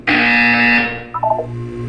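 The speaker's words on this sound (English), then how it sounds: "You will hear a buzzer." An electronic buzzer in an Aperture Science test chamber in Portal 2 gives one loud, sustained harmonic tone lasting most of a second. A short rising electronic chirp follows, with no talking.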